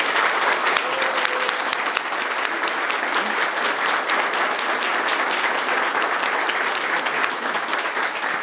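A round of applause from a press-conference audience for city staff at a downtown announcement: sustained, even clapping from a sizeable group, fairly close and loud, with no talk over it.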